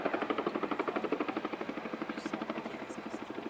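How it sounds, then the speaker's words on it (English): An RAF Chinook helicopter hovers with an underslung quad bike load at an air show, its twin rotors producing a steady rapid chopping thud at moderate distance. "The crew will be moving the aircraft to counteract any swing on the load as she varies in the airflow."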